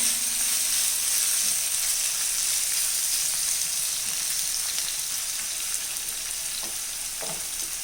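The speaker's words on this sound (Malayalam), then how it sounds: "ഒരു 1/4 സ്പൂൺ ഉപ്പിട്ട് കൊടുക്കാം. ഈ സവാള നല്ലതുപോലെ ഒന്ന് വാടി വരട്ടെ." Onions frying in a pan with a quarter spoon of salt, a steady close sizzle and crackle that holds throughout, with faint stirring scrapes near the end and no talk.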